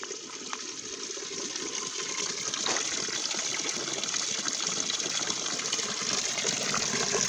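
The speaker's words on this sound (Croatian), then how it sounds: "Idemo ljudi da se napijemo vode sa najljepšeg izvora u Kostajnici" Spring water gushing steadily from a natural source in Kostajnica, a continuous broadband rush with no pauses, close and fairly loud from start to finish.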